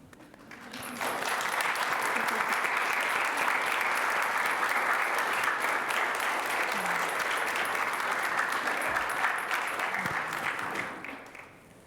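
A Unitarian Universalist congregation applauds pageant participants during a December service, sustained steady clapping from many hands filling the room for about ten seconds before fading out.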